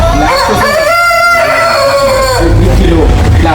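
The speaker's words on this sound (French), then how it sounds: "Il y a des poulets dedans." Chickens in a poultry house fitted with drinkers and feeders, with a loud rooster crow rising over steady nearby clucking and shuffling, the whole flock close and busy.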